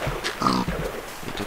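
Pigs oinking in the video game Minecraft: a short burst of grunting oinks, close and fairly loud, standing alone without talk.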